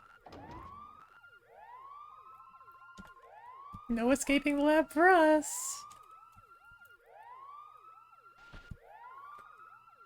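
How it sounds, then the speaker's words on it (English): Repeated rising-and-falling ambulance siren wails from Pokemon Colosseum cycle steadily throughout, briefly interrupted by a loud burst of speech in the middle. "It's ambulance sirens."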